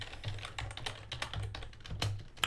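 Fingers type on a computer keyboard in a quick, uneven patter of soft clicks, faint and close, with no voices.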